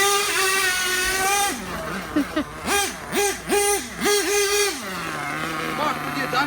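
A nitro RC car fitted with a TNS motor, its small engine whining loudly and steadily, then revving up and down in several quick rising and falling bursts before settling back to a lower drone.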